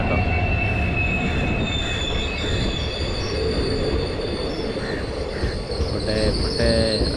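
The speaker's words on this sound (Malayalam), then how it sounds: "ഇതാ ഒരു ട്രെയിൻ ഇതാ വന്നു. നിലമ്പൂരിൽ നിന്ന് ഷൊർണൂർക്ക് പോകുന്ന ട്രെയിൻ കേട്ടോ." A train on the Nilambur to Shoranur line pulls into a station, its steady loud rumble joined by high metallic wheel squeals that persist throughout, with faint voices in the background.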